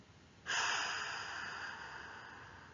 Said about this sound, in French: Puis, expiration.